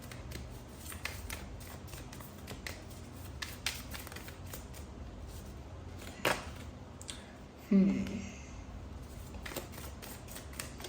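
Tarot cards being drawn and handled during a reading, soft rustling and shuffling sounds with a sharper flick and slide near the end, faint and close, with brief quiet speech.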